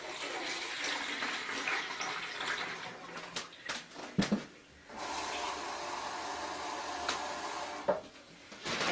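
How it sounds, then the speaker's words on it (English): Liquid pours steadily through a funnel into a container, a close splashing, gurgling flow with a short break midway before it resumes; the liquid is a cup of vinegar for a non-toxic homemade cleaning mix. "So again, I'm going to use my funnel. I'm going to put in 1 cup of vinegar."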